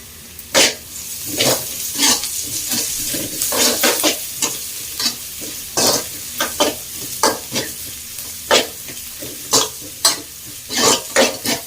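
Garlic sizzles in a pan for an amma-style urundai kuzhambu while a spoon scrapes through it in sharp, rhythmic strokes. Loud, close clacks repeat about once a second over a constant bright hiss of frying.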